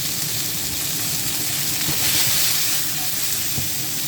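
Ginger and shrimp sizzling in a stir-fry pan, giving a dense, steady, close hiss that holds at a constant level for the whole stretch.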